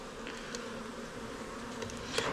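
Honeybees buzzing around Apidea mating boxes, a steady, fairly faint hum of many bees with a few closer passes, no speech.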